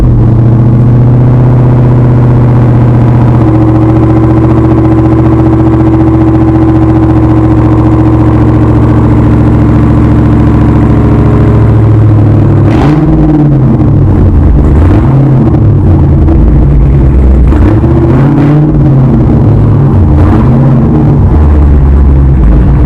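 A 2015 Dodge Challenger Hellcat cold-starts after sitting a month in roughly 20-degree snowy weather, its engine loud and close with a steady high-idle drone that later settles into a lower, lumpier idle with revving swells.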